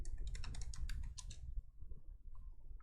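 Computer keyboard typing comes as a rapid run of crisp clicks that stops partway through, close by and moderately loud, with no voices.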